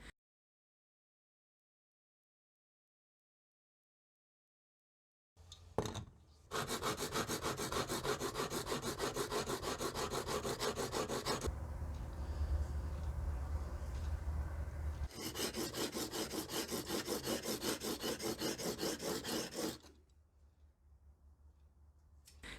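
A rusty block plane iron held in a honing guide is worked back and forth on a sharpening stone, giving steady rhythmic rubbing strokes in two long bursts with a brief pause between, close and fairly loud.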